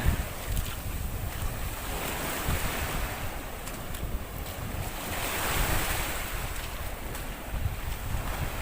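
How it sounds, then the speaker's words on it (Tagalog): Sea waves wash steadily onto a white sand beach with very clear water and somewhat choppy surf, a continuous broadband roar with wind buffeting the microphone throughout and no voices. "dito sa kanilang playa na sobrang linaw ng tubig dagat kahit medyo maalon at napakaputi ng buhangin"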